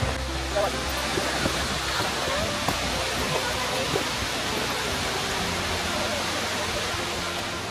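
Roaring water of Changey Waterfalls at Kolakham pours in a dense, steady broadband rush, loud and close, with no pauses across the whole stretch and no voice heard.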